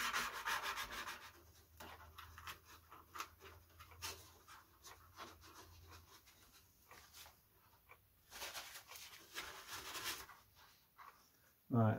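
Balsa wood aircraft parts for a model biplane are sanded by hand to rough them up before gluing, with quick repeated scratchy strokes in bursts, close and fairly loud, and a brief voice between them.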